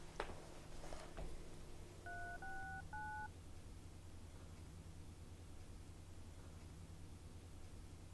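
Telephone being dialed, three short touch-tone beeps in quick succession, faint under a steady background hiss, followed by quiet.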